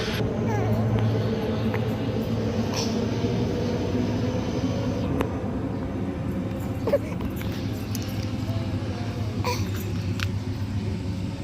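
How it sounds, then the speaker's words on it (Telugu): A low-flying airplane passes close overhead near an airport, a steady deep rumble that fills the scene throughout, with a few faint clicks and knocks from nearby. "విమానం అయితే దగ్గరగానే పోతుంది, చూసేయండి."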